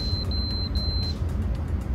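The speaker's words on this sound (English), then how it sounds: "it beeps 3 times and shuts down" A PlayStation 5 console gives three short high-pitched electronic beeps in quick succession over a low background hum, then the tone stops as it shuts down.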